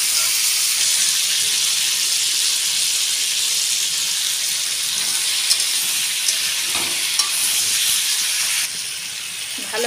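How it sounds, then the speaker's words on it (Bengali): Pointed gourd with turmeric powder sizzles and hisses steadily in a hot pan while being stirred, with a few faint scraping clicks over the constant frying. "ভালো করে নেড়ে ছেড়ে হলুদগুলো গায়ে মাখিয়ে নিয়েছি পটলের মধ্যে।"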